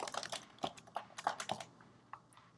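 Arduino code typed on a computer keyboard, a quick run of close, soft key clicks in irregular bursts that slow and trail off, with no talking.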